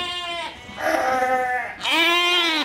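A Merino and Suffolk crossbred sheep bleats twice at close range, a loud wavering call followed after a brief pause by a second, stronger bleat, with no other sounds competing.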